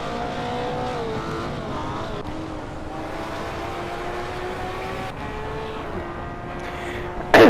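Race cars in a Hot Wheels video game race drone past with a steady engine whine that rises and falls slightly, loud and continuous, ending in a brief sharp burst.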